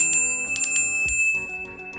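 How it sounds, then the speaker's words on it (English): A hand bell rings with bright, sustained metallic tones, several strikes close together in the first second that then fade into a lingering ring, with no voices. "Please take this bell, ring it 3 times like this."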